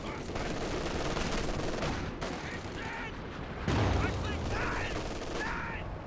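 Gunfire from an MG42 machine gun in a Company of Heroes 2 multiplayer match, a dense continuous rattle of shots and battle noise with a louder burst near the end, under a commentator's voice.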